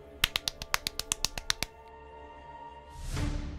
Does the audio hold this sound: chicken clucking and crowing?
no